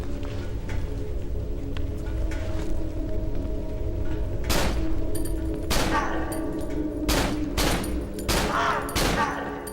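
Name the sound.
gunshots in the video game Cry of Fear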